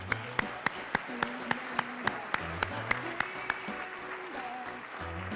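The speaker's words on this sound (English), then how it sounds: "Once again, a round of applause for Harding University." Applause at a 2012 awards luncheon: an even, rhythmic run of sharp claps over a soft background of crowd noise and low tones, holding steady for several seconds.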